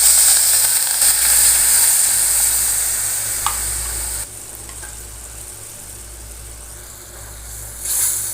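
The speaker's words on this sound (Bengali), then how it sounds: "তারপর আমি যে মিক্সচারটা বানিয়েছি এই মিক্সচারটা ঢেলে দেবো।" A spiced masala mixture poured into a hot pan with chillies and curry leaves for a Bengali fish curry fries with a loud, steady hissing sizzle, close up, easing slightly before a brief flare near the end.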